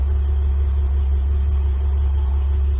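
Steady low engine drone from a Pro-Line 22 Sport boat, running continuously at a constant pace with a deep rumble and no talk.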